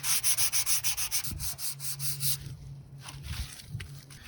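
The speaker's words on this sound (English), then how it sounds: "grab a little bit of sandpaper and just lightly sand this down" Fine-grit sandpaper rubbed by hand over rusted metal in quick, even back-and-forth strokes, close and fairly quiet, a rhythmic run of about a dozen passes, then slower, scattered scrubbing.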